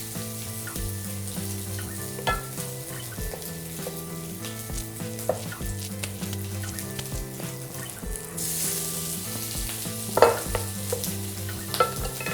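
Patties searing in a hot pan, a steady close sizzle and crackle with occasional utensil clinks and a brief burst of louder spitting, with no talking.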